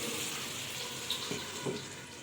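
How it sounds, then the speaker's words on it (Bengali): A pan fries on a low gas flame with its lid on, giving a soft, steady sizzling hiss with a few faint clicks and taps. The sound is quiet and fairly even. "তো এটা এখন আমি একদমই লো ফ্লেমে এই ঢাকা চাপিয়ে চাপিয়ে ভাজবো"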